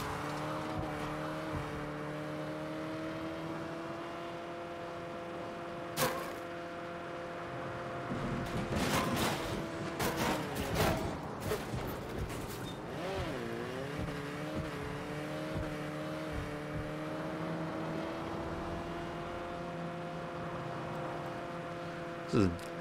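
A car drives in the video game Saints Row, its engine holding a steady droning tone with gear shifts and bursts of revving, while sharp bangs and scattered impacts punctuate the middle.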